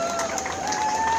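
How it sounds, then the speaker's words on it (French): Spectators at the finish line of a trail race in Bouzigues clap and cheer for the first female finisher, a brief dense burst of applause with a voice over it. "s'il vous plaît, messieurs, dames, applaudissements"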